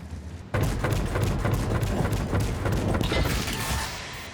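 A sudden loud tank gun shot in a video game breaks the quiet, then a sustained rumbling, crackling roar of battle noise continues at high volume without letup.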